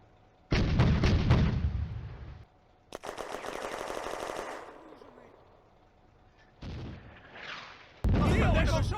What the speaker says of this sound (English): Soviet mortars fall onto Vetter's former position.